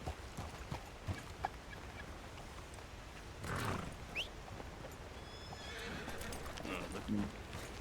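A horse in a video game neighs and whinnies among clip-clopping hooves, with a distinct whinny partway through, heard fairly faintly beneath a speaking voice.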